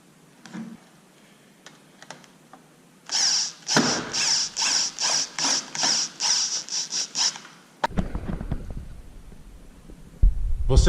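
A power drill drives a metal-to-metal screw into a steel drywall stud, a quiet lead-in followed by a loud, pulsing run of about ten rapid bursts, then a sharp clack and rustling handling noises.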